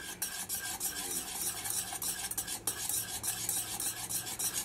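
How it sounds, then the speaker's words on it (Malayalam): A spoon or spatula scrapes continuously through a thickening semolina and milk mixture in a pan, giving close, repeated rasping strokes with a soft underlying sizzle and no talking. "ഇതേപോലെ ഇങ്ങനെ കൈ വിടാണ്ട് ഇങ്ങനെ ഇളക്കി കൊടുത്തോണ്ടിരിക്കണം."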